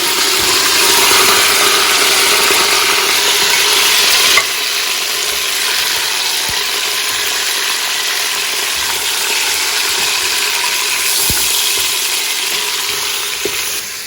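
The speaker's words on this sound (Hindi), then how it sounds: "तो अब इसमें गोश्त जा रहा है।" One kilogram of bone-in mutton meat for haleem hits a pot over medium heat, giving a loud, steady frying sizzle with occasional stirring knocks, easing slightly in intensity after a few seconds.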